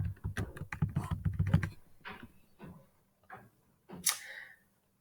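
Computer keyboard typing, a quick run of close key clicks followed by a few sparser taps and pauses, fairly quiet and with no voices.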